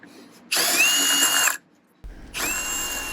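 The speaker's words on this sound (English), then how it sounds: "we're putting in some pocket screws" A power drill drives pocket screws into wood furniture support pieces, with two loud whirring bursts, each a rising whine that holds steady before cutting off, separated by a short quiet pause.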